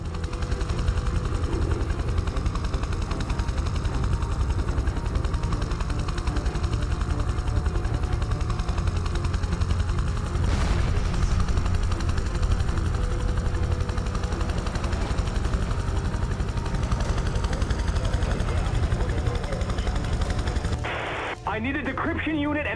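Helicopter rotor and engine drone in the video game Prototype 2, a loud continuous thrum heard as the aircraft comes in to land on a helipad, mixed with bursts of gunfire and game noise and a brief drop near the end.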